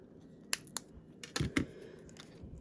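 Card paper is trimmed with quick crisp snips and clicks, a few sharp isolated cuts followed by a denser cluster of slicing sounds, close but quiet against a low background hum.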